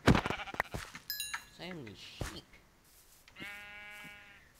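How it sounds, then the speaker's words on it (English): Sheep bleat in a Minecraft-style survival game, several wavering calls close by in quick succession, mixed with sharp game effects and a higher buzzing cry near the end. "I found sheep, but they don't give you flipping hide."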